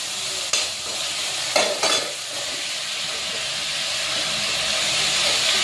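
Tomatoes drop into onions already fried for palak paneer, giving a steady, loud sizzle with a few quick stirring scrapes near the start, close and alone with no voices.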